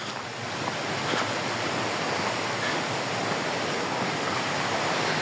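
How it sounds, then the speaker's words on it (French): Small waterfalls and streams run near an abandoned former hospice turned gîte, making a steady broadband rushing hiss that stays even and continuous throughout. "Donc voilà pourquoi on a autant d'eau, autant de petites cascades de l'autre côté."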